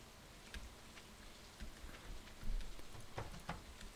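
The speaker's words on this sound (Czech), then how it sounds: "No prší, abyste nenamokli." Rain in the video game Stardew Valley, a faint, steady patter of drops with a few slightly louder taps scattered through.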